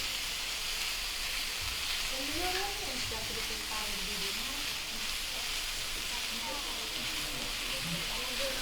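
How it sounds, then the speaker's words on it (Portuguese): Rice sautéing together with meat in a pan, a soft steady sizzle and hiss under faint background voices, continuous and moderately quiet throughout. "Ela vai começar... a refogar junto com a carne, junto com as carnes, né?"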